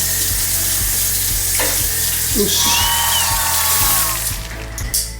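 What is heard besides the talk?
water being poured into a container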